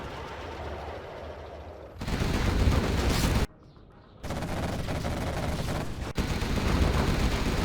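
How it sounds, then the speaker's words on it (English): Artillery barrage in a real-time strategy game match, a dense rolling fusillade of booms and gunfire that swells loud, drops briefly to near quiet, then resumes as a steady roar. "Artillery comes in, and it's quite a decent one."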